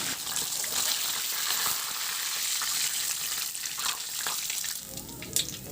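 Food fries in a pan, browning on its second side, making a steady hissing sizzle that softens near the end, followed by a brief clank.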